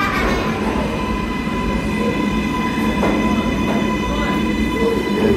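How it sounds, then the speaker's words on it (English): A New York subway train runs through a station on a CBTC-signalled line near Grand Central without stopping, giving a steady loud rumble with faint wheel squeal and clatter throughout. "I'm going to let a couple trains go by and you see how close they run together"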